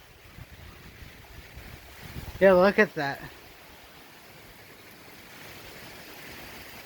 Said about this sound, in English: it was pouring. The wind's picking up again.